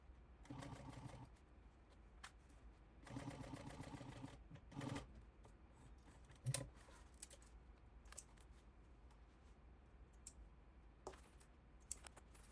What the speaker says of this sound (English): You want to sew this at 3/8 inch, not going over the zipper.